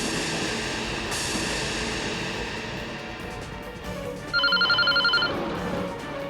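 A telephone rings in a Hindi TV drama scene: one short burst of pulsing electronic ring tones late in the clip over a steady background music bed, with no talking.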